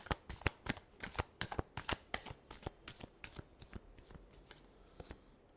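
Tarot cards are shuffled by hand in a rapid series of crisp riffling flicks, close and fairly quiet, with a steady rhythm that slows slightly toward the end.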